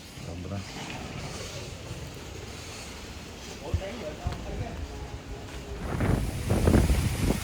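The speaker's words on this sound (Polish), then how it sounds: "Wieje, nie? Wieje!" Gusty wind roars into the microphone outdoors in Phu Quoc, Vietnam, rumbling and buffeting louder toward the end, while people talk under it.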